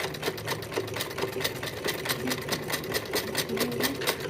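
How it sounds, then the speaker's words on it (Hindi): Sewing machine stitching piping onto fabric, a steady rapid needle chatter running continuously at an even pace, loud and close throughout. "इसके ऊपर हम एक सिलाई लगाते हुए सीधा नीचे तक आएंगे इस तरह से"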